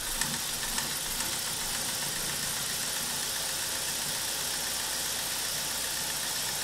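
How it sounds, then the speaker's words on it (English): A BMW N42/N46 four-cylinder engine running after a timing chain replacement, with VANOS noise: a steady, loud mechanical drone with constant rattling and no speech. "here we can hear the Vanos"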